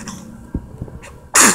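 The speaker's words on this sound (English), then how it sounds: "That is a good sneeze." A baby lets out one loud, sudden sneeze near the end, a sharp burst that follows a few soft, quiet rustles and breaths.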